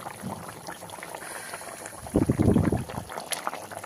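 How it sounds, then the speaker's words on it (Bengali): Fish curry sauce for pomfret jhal bubbling in a pan, a soft simmer that swells into louder, close gurgling bursts midway before easing back. "ঝোলটা ফুটে উঠেছে, এবার আমি একে একে মাছগুলো এর মধ্যে দিয়ে দেবো"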